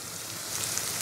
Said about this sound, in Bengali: কাঁচা গন্ধটা যাওয়া না পর্যন্ত আমি মশলাটাকে একটু কষিয়ে নেব।